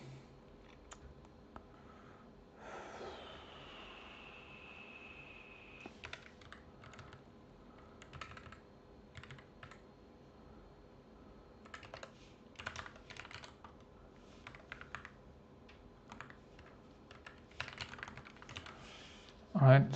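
Computer keyboard keys clack in irregular bursts during a programming session, close and fairly quiet, with pauses between runs and a brief tone in the background early on.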